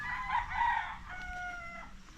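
A rooster crows on a Filipino coastal outing, a single long harmonic call with a second fainter crow following, fairly near and alone with no talk.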